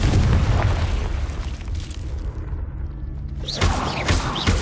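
The Confringo fire spell explodes in Hogwarts Legacy on PS5, a loud, sustained booming blast with rumbling low end that fades and then flares up again near the end.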